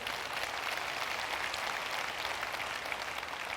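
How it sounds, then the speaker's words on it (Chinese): An audience claps for a speaker at a Malaysian business event, with dense, sustained applause at a steady level throughout. "给 Kelvin 挂一个掌声。"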